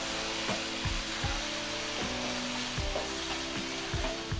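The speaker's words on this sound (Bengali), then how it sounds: "এবার আমি 10 মিনিট ধরে মাংসটাকে ধীরে ধীরে কষিয়ে নিয়েছি।" Chicken with turmeric frying in a pan, a steady close sizzle broken by regular scraping strokes of stirring, with no voices.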